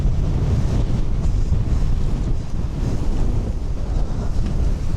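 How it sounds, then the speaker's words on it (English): Strong wind on an open mountain summit in the Lake District buffets the microphone with a loud, continuous roar and rumble that never lets up, with no talking. "I'm not sure if you can tell with the microphone on, but it's pretty breezy up here."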